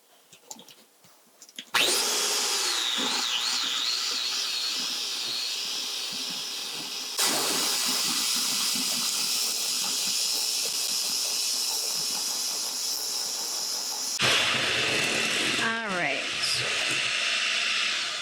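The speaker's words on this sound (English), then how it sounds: "so now we're gonna take our hand mixer" Hand mixer running on low speed through a brick of cream cheese, a steady whirring and rubbing drone that holds for most of the stretch, briefly lifting in loudness partway through.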